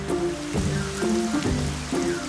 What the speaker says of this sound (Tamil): ஆனா என்னடா இது இவ்வளவு மழை பெய்யுது?